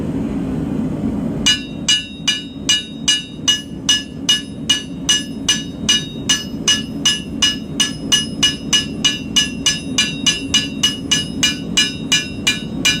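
Steady, evenly spaced hammer blows ring out on metal while bevels are forged into a knife blade, dozens of sharp clanging strikes repeating about twice per second over a low background hum, no talking.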